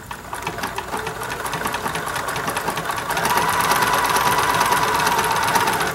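A sewing machine stitches a blanket stitch on a quilt, a rapid steady mechanical chatter that grows louder and busier partway through, heard up close with no talk.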